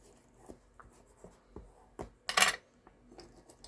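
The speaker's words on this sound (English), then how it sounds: "I'm going to go over them all with the bone folder." A bone folder rubbing over score tape on card stock, a series of soft close scraping strokes with one louder, longer rub in the middle, quiet and with no talking.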